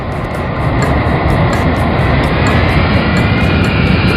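Roaring airplane engines of a burning aircraft making an emergency landing in a forest, a loud steady jet-like rumble with no talk.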